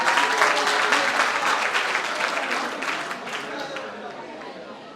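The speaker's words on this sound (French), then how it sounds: "Applaudissez, s'il vous plaît." An audience applauds at a rap conference during a village festival, dense clapping mixed with some crowd murmur, loud at first and slowly fading over several seconds.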